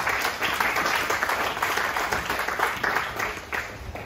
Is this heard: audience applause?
yes